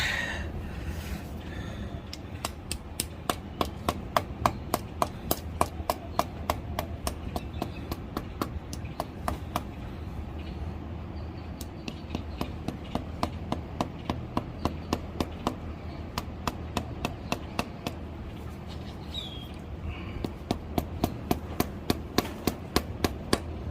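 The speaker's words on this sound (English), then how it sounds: "Let me get this mallet. Get it in as much as I can with this first O-ring." Mallet rapping an O-ring into a cylinder hole on a 2012 Ford F-150 coolant modification, a long run of sharp, evenly spaced taps at close range with brief pauses between bursts.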